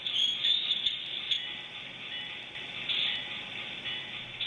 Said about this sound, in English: And this button is for the bell.